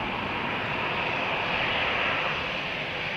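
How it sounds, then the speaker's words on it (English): A Swissair jet taxiing at Malaga Airport on a stormy morning gives off a continuous, even whooshing engine roar at moderate distance, with no voices. "Swissair flight to Zurich is taxiing"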